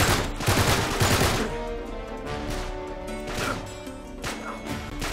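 Enemy gunfire in the Uncharted 3 action game, heard as a continuous noisy stretch of rapid shots and impacts with a few sharper cracks, loud and steady across the whole span.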